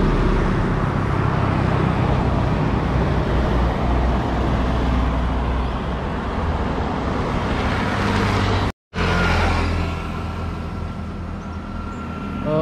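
A Trans Janto bus enters the Indrapuri toll road gate in Aceh. Its engine and road noise form a loud, continuous roar close by, with a brief dropout midway.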